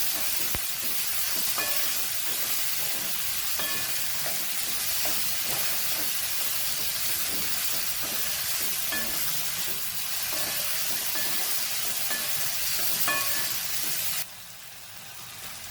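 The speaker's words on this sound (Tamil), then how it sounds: "இப்போது ஒரு ரெண்டு நிமிஷம் நல்லா வதக்கணும்" Spices sautéing in a pan for Rava Kichadi make a steady broadband sizzle with occasional faint clinks of a utensil, continuous and fairly close, with no talk, until it drops and quiets near the end.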